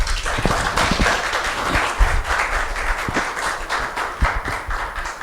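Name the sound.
welcoming applause from church congregation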